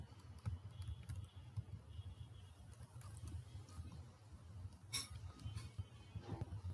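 A computer keyboard is typed on softly in quick irregular patters under a low hum, with a few sharper clicks late on, faint and close.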